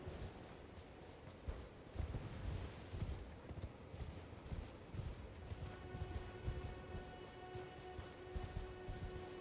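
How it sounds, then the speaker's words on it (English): In Elden Ring, a horse's hooves clip-clop in a quick steady gallop under a dense bed of game ambience and music, moderately loud throughout. "Let's go, horsey."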